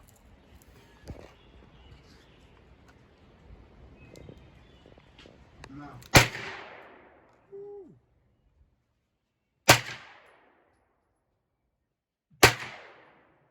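Three sharp, loud gunshots from a Freedom FX AR9 9mm AR-style pistol crack out a few seconds apart, each followed by a short fading echo, after a stretch of faint outdoor shuffling and murmuring voices.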